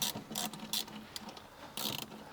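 A ratchet tightens rocker cover bolts on a Mercedes R107 420SL engine, giving a few close, bursts of clicking separated by short pauses, with no talking.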